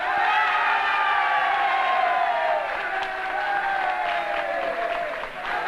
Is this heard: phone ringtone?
no